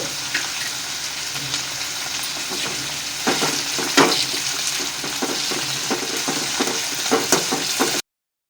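Green chilli paste sizzles steadily in a pan over a low flame while roasted avalakki (beaten rice) is made, with scraping stirring strokes and sharper crackles cutting through close up.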